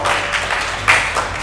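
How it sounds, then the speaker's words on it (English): Audience applause for a panel at an elder psychological care symposium, a steady wash of many hands clapping throughout with a brief louder swell near the middle. "a big round of applause for the entire panel here"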